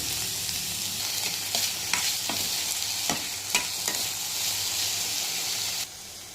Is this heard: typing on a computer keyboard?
no